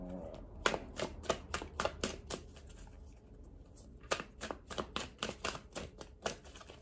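Tarot cards shuffled by hand in a close, quiet room, a run of crisp riffling flutters in quick bursts with a short pause midway, no talking.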